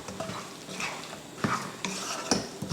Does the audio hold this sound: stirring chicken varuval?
yes